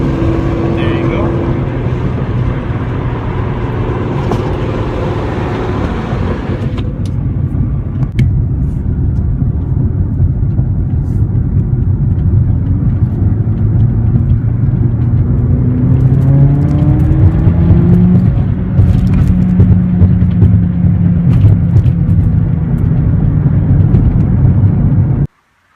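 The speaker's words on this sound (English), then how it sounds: "you don't hear the crackle and the pop in comfort mode" A Mercedes-Benz CLA45 AMG engine and exhaust rumble loudly and steadily at close range, the pitch rising and falling as it revs, with a voice talking over part of it.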